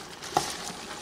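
Minced garlic is stirred into a pot of frying beef stew base: a soft sizzle with two quick scraping strokes of the spoon, close and brief.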